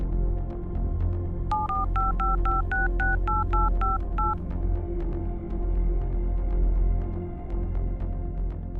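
A run of about ten crisp telephone keypad tones beeps in quick, even succession as a number is dialed, clear over a steady low room hum, then fading back to the hum.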